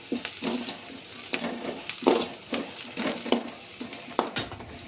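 Onions sizzle in a hot pan for an egg kulambu, frying until browned while a spoon stirs and scrapes them in a steady rhythm of short strokes, close and clear with no talking.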